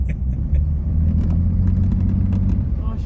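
Mercedes-Benz W123 250 limousine, parked for 17 years, idles with a low, heavy engine rumble that holds steady and close throughout, without any clear rise in revs.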